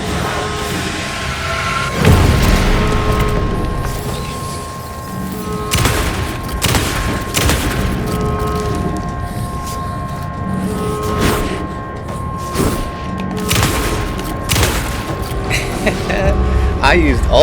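Shotgun blasts in the video game Alan Wake 2 punch through several times at irregular intervals, sharp loud bursts set against a droning game ambience with a steady tonal hum.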